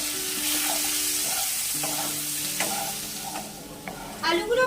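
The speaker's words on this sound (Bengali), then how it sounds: "এখানে অল্প করে নুন হলুদ দিয়ে আলুগুলোকে ভেজে নেবো" Potatoes with salt and turmeric frying in hot oil for a potato and pointed gourd curry: a loud, steady hiss of frying, close up, with a few clinks of a utensil near the end.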